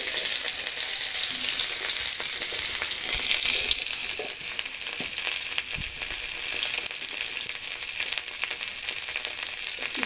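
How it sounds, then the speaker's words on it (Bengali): Cauliflower frying in oil in a kadai, a dense, even hiss of sizzling that runs steadily at close range, with faint occasional knocks and no talking. "ফুলকপি দিয়ে ফুলকপিটা লাল লাল করে ভেজে নেব।"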